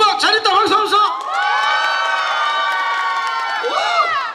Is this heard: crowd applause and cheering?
yes